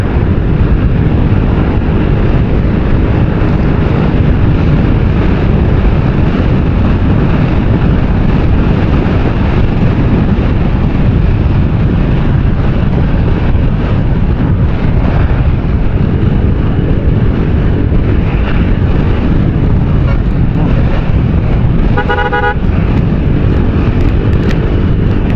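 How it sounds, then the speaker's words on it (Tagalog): Loud, constant wind roars and buffets the microphone throughout at Laguindingan, a dense low rumble with no break and no voices. "Di ako sure kung rinig yung hangin pero sobrang lakas ng hangin."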